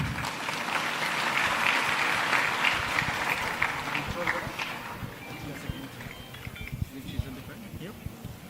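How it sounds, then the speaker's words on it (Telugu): Crowd applause from an audience gathered at the Sydney Cricket Ground as a singer is called to the stage, strong at first and then thinning into scattered claps, with talk over it. "మీరు ఇప్పుడు కూడా చప్పట్లు కొట్టొచ్చు."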